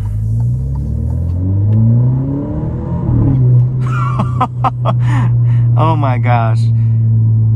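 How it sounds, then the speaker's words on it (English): An Alfa Romeo Giulia's deep exhaust rumble accelerating, then sharp pops and crackles as it upshifts in automatic mode, with an excited voice exclaiming over it. "that exhaust kind of burble and crackle when you upshift, even in the automatic mode"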